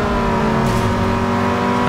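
Car engine droning steadily with a whiny, revving tone throughout, heard while drifting in the racing video game Need for Speed Underground 2, with a brief swell of tire-like hiss partway through.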